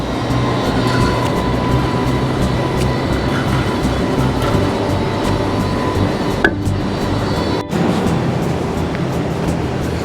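A Sydney light rail tram rolls along George Street in the city early in the morning, a loud, continuous rumbling roar with a couple of sharp clicks, no voices.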